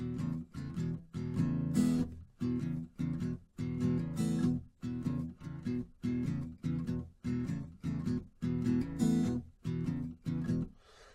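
An acoustic guitar in open E tuning strums a choppy, repeating rhythm, with short bursts of chords separated by brief muted gaps, played close and steady.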